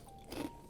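A single crunchy bite into Takis rolled tortilla chips, a short crisp crackle up close with a brief chewing sound after it.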